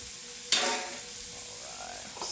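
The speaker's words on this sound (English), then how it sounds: "Quick little saute." Chicken tenders in a pan with Parmesan cheese, sautéing with a sudden loud sizzle that then settles into a softer steady fry; no one speaks.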